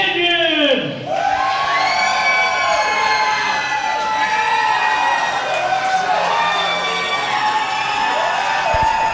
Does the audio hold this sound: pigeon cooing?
no